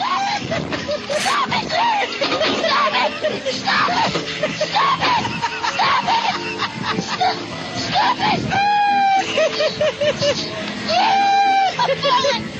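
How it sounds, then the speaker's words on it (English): A child screams for help amid a chaotic scene from a played clip, with shrill rising wails near 8.5 and 11.5 seconds over dense background babble and noise. "He's screaming for help."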